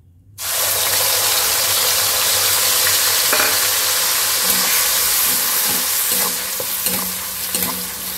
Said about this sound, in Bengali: এবার পেঁয়াজটাকে দিয়ে দিই।